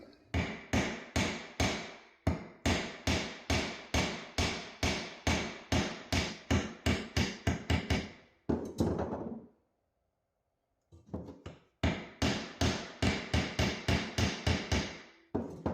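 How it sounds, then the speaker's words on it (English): Rapid, steady blows of a regular hammer flattening metal on the back of a vise ring loud and close, with a brief pause partway through before the pounding resumes at the same pace. "I'm going to use the back part of my vise here and just a regular hammer."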